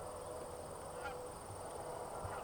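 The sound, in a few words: geese honking in flight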